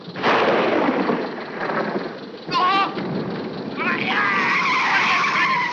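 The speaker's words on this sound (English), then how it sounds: "Oh, thundering. I don't like thundering." Thunder rumbles on a dark road at night, rolling and heavy, with engine and road noise mixed in throughout and brief squealing bursts cutting through the storm.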